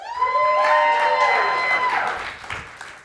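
A crowd erupts in cheering and whoops with clapping, shrill voices rising over each other before fading out.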